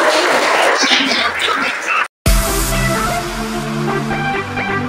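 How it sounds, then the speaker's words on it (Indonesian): Classroom applause at the end of a biology lesson on artificial vegetative propagation, a dense steady patter of many hands filling the room, cutting out briefly midway and resuming with a music-like tonal layer underneath. "tepuk tangan untuk kita semua karena sudah selesai"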